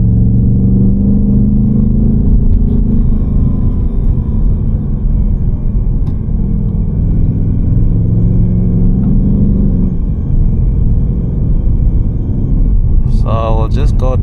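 A 2025 Ford Mustang GT with a 450 hp engine cruises along a road, its deep, steady engine rumble heard from inside the cabin while people talk.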